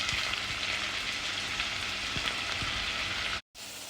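Garlic and onions frying in hot oil, a steady close crackling sizzle with scattered pops, cut by a brief silence near the end.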